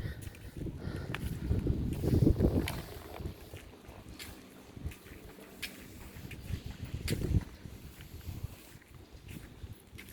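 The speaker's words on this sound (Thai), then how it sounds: "ลมพัดเย็นวอยวอยอยู่" Cold wind blowing outdoors after a night and day of rain, rumbling as a low, uneven gusty rush that swells around the second and seventh seconds with faint scattered knocks.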